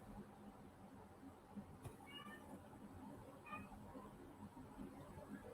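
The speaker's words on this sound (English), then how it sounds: "I got a cat that's talking to her kitten" A mother cat meows to her kitten indoors, two short, faint meows spaced a second or so apart over a low background hum.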